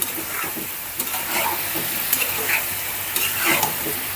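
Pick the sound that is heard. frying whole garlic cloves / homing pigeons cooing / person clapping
frying whole garlic cloves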